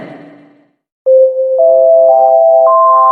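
A telephone tone sound effect in a Swedish airport setting follows a short burst of chatter and a silent gap, then rises as a steady, loud electronic tone that steps up in pitch several times.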